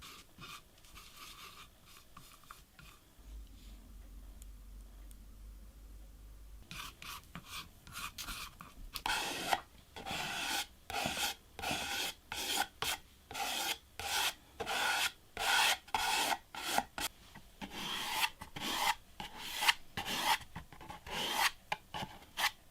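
Sabi lacquer putty is leveled on wood for lacquerware, starting with quiet scraping and then turning into a close, rhythmic run of rasping, rubbing strokes that repeat steadily for over ten seconds.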